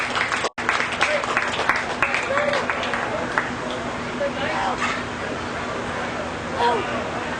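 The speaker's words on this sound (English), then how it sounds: "Let's give Fred a great round of applause for doing all he does for the show." An audience at a show claps in a sustained round of applause, a dense patter of many hands with crowd murmur beneath and a voice speaking over it.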